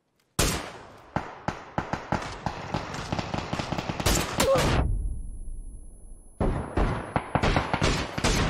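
A gun in PUBG fires a rapid series of sharp, close, loud shots, then falls silent for about two seconds before a second burst of quick shots.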